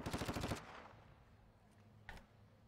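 A rapid burst of automatic gunfire in a video game rattles loudly for about half a second, then fades into quiet background with one faint distant shot.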